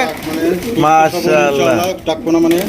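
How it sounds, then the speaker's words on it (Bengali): Close, loud pigeon cooing in rolling, throaty phrases, mixed with nearby voices talking over the birds. "আজকে দেখা যায় প্রায় কবুতরই ডাকাটা কি শুরু করে দিতেছে"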